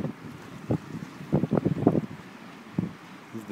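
Gusty wind buffets the microphone in uneven bursts, with waves sloshing and lapping nearby underneath on Stafford Pond.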